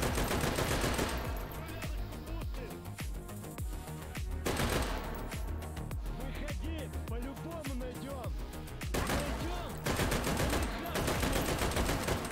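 Virtual-reality gunfire in H3VR aimed at Sosig targets, with rapid bursts and repeated shots running loud and dense throughout, layered over game music or background sound.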